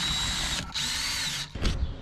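A power drill bores holes into a kei van's interior panel, whining steadily in three bursts with brief pauses between them, close and fairly loud, with no talking.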